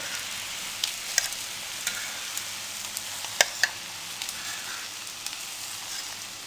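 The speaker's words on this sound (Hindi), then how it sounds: "लो फ्लेम पे बहुत अच्छे से फ्राई हो चुकी हैं" Beef shami kababs frying in a pan over a low flame, a steady soft sizzle with scattered crackles and a few sharp pops, close and unaccompanied by talk.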